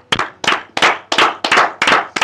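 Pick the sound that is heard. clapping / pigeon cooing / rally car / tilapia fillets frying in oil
clapping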